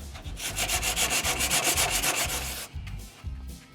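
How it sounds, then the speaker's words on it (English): Sandpaper rubs back and forth on a car's surface in quick, even close strokes for most of the clip, then slows to a few lighter passes, with no speech. "Let's try some sandpaper on there."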